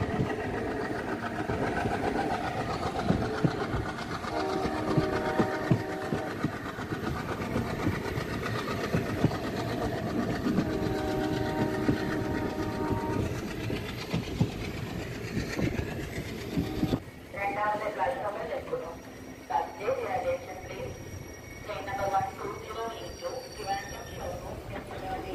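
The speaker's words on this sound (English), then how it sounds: "Now the train reaching the Kollam junction." A passenger train on the Kollam–Sengottai line in India rolls along loudly with steady rhythmic wheel clatter and engine rumble, then slows on its approach into Kollam junction, the noise dropping and changing character near the end.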